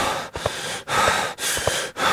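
Heavy, ragged breaths, several sharp inhales and exhales in a quick uneven rhythm, close and loud with no talking.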